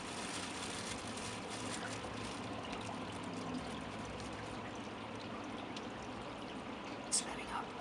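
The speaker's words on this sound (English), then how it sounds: "the rain's letting up a little" Rain patters steadily on a lake around a kayak, a soft even hiss of drops on water close by, with a faint voice underneath and a brief knock near the end.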